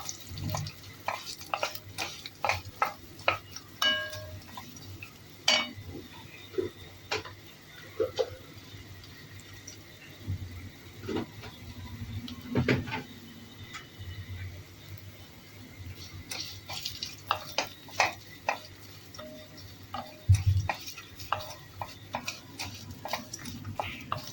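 Dry coconut roasting in a pan, stirred with a utensil, giving quiet, irregular scraping and clicking taps that come in scattered bursts over a faint background.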